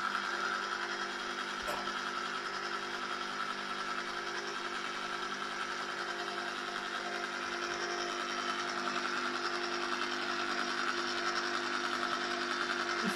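An ice cream maker churns Devon stout ice cream made with double cream, giving a steady, quiet motor whir that holds unchanged throughout, with no speech.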